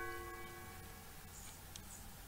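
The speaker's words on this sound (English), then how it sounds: "Oh, hello there, weird bells." Bells in the video game Undertale ring as a sustained tonal chime with several steady overtones that slowly fade over a couple of seconds, faint and alone with no talking.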